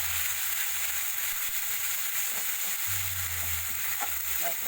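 A paste of ginger, cumin, dried chili and tomato frying in oil, a steady bright hiss of sizzling with faint stirring ticks toward the end.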